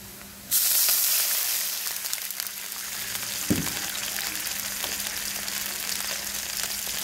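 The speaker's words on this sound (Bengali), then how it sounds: "পেঁয়াজটা ভাজা হয়ে গেলে অল্প পরিমাণ পানি দিব।" Onions fry in oil in a pan while cooking a cabbage dish, a loud steady sizzle starting abruptly and continuing throughout, with a brief clatter near the middle and no talking.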